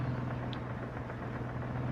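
Low, steady idling drone of a bus engine in the Car Parking Multiplayer game at night, quiet and even, with no talk.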